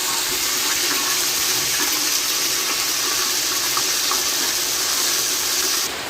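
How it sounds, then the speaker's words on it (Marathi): Steady, dense rushing of rain falling outside that continues unbroken for several seconds, loud and close, with no voices. "मस्तपैकी सो पाऊस पडायला लागलो बाहेर"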